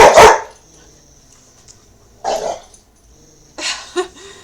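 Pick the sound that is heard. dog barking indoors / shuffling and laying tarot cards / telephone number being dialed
dog barking indoors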